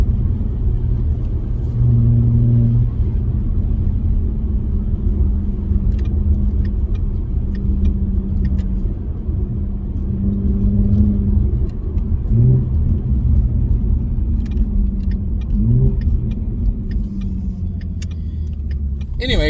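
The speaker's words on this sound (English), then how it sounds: "that's what it will sound like in the S550" A 2016 Ford Mustang V6 (S550) with a muffler delete, heard inside the cabin, rumbles steadily with a deep, throaty exhaust drone, rising in a few short revs; nearby voices can be heard under it at times.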